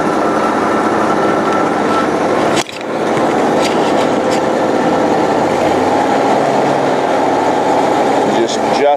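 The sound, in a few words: twin engine hot and cold water sewer jetter running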